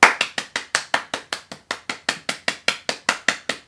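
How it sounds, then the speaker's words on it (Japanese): A single person claps their hands steadily, about five crisp sharp claps per second in an even rhythm, close and distinct with no talking. "何も考えずにまずは拍手をしてみてください"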